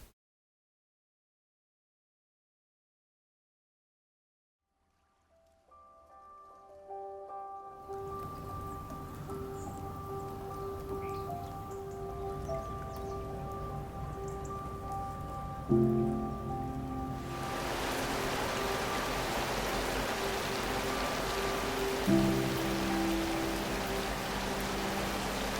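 Storm rain in Portugal starts after several seconds of silence and builds into a dense, steady hiss of rainfall that grows louder toward the end, over low musical tones.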